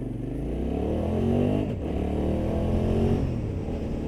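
Hyosung GT650R sport motorcycle accelerating on a test ride, its engine note rising steadily and close to the rider with a brief dip midway, a continuous loud drone with no talk over it.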